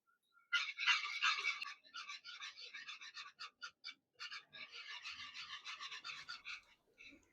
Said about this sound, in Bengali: গুঁড়ো দুধটা একবারে না মিশিয়ে ঠিক এরকম অল্প অল্প করে মেশাতে হবে।